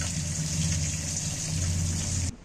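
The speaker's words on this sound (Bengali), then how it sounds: "মশলাটা ততক্ষণ ধুয়ে দিচ্ছি।" Tap water runs steadily while a spice bowl is rinsed in a home kitchen during Bengali pomfret fish cooking, a continuous close hiss and splash that stops abruptly near the end.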